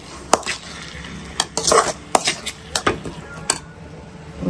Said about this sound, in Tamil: இதுக்கப்புறம் வந்து தக்காளி ஆட் பண்ணி இதையும் வதக்கிப்போம் நல்லா.